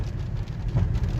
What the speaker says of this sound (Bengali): তো এইরকম বৃষ্টি চলতেছে।